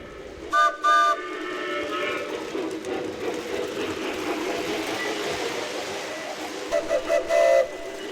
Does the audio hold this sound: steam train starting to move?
yes